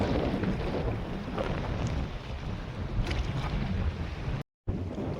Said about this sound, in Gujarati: ઠંડી ઠંડી હવા ને આવે છે